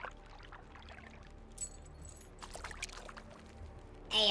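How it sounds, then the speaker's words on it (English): Water splashes and trickles during fishing on a coastal highway in the survival game The Long Dark, soft and intermittent with a few brighter sloshing bursts against a quiet background. "It sounds like we're splashing around in the water."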